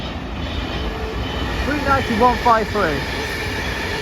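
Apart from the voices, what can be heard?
Transport for Wales train passing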